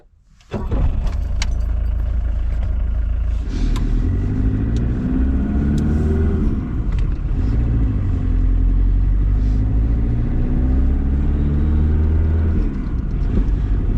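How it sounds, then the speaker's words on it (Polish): A diesel-engined FSO Fiat 125p starts up after a brief quiet moment, then runs steadily with a low rumble and shifting tone as the car drives along. "Teraz ten samochód odpalimy i jedziemy na krótką przejażdżkę tym samochodem."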